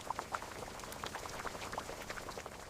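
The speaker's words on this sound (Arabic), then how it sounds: "سيبه يغلي لحد ما يستوي" Yellow lentil soup bubbles at a low simmer in a pot, with soft irregular pops and blips close by, fairly quiet and steady throughout.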